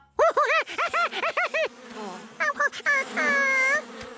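Cartoon bees gathering nectar: a buzzing drone with a wobbling, swooping pitch repeats in short bursts, then settles into a steadier hum, loud and close.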